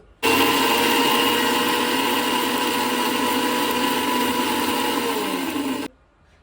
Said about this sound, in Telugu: ఒకే ఒక ఉల్లిపాయ తీసుకుంటున్నాను మిక్సీ చేస్తున్నాను ఇప్పుడు